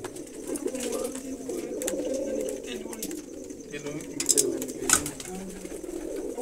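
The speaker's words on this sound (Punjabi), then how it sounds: "ਇੱਕ ਕਬੂਤਰੀ ਪੁੰਨੂ ਵਾਲੀ ਹੈ ਅਤੇ ਕਬੂਤਰ ਰਾਜ ਨਾਲ" Kept pigeons, a hen and a cock, coo in low repeated throaty phrases close by, with a voice faintly underneath.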